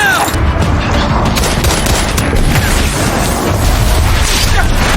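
Dense, overlapping gunfire crackles continuously, with bursts and booms blending into a loud, chaotic barrage and no pauses.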